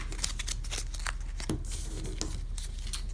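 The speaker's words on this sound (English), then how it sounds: "shuffle this card and the discard pile into the peril deck" Cards for the Middle-earth Quest board game shuffled by hand into the peril deck, a close, steady run of crisp riffling and flicking with short snaps repeating throughout.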